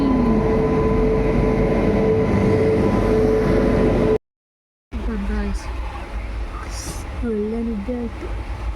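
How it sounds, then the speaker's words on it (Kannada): A train pulling into a railway station, a broad steady rumble with high wheel squeal and a horn-like tone, then a short gap before engine hum continues under nearby voices. "ಬಂತು ಟ್ರೈನ್, ಬಂತು."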